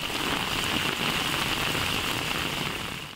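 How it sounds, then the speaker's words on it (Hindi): Steady rain comes down in Faisalabad, Punjab, a continuous dense hiss of drops striking surfaces, fairly loud and unbroken throughout, with no speech over it. "पंजाब के शहर फैसलाबाद में वक्फे से बारिश का सिलसिला जारी है।"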